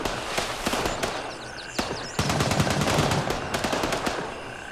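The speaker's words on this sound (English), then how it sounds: "when you hear gunshots in the distance like that, sometimes they sound like they're right on top of you" Rapid bursts of video game gunfire from Gray Zone Warfare crackle continuously in dense automatic volleys, mixed with scattered single shots, sounding fairly close and loud though distant in-game.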